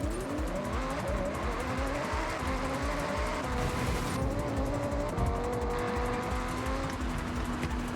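A Lamborghini rally car in the racing game Forza Horizon 6 drives hard with a continuous engine roar, the pitch climbing and dropping as it shifts and accelerates, close and sustained throughout.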